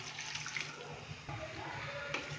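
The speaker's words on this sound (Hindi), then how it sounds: "और 1 गिलास हम इसके अंदर पानी डालेंगे।" Water from a glass poured into a pot of beef karahi with garlic, salt and ginger paste, a steady pouring and splashing sound that runs through the whole moment.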